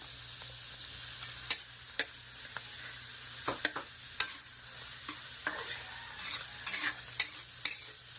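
Ground meat for spaghetti fries in a pan with a soft, continuous sizzle, punctuated by scattered sharp clicks and scrapes of a utensil stirring it, heard close with no talking.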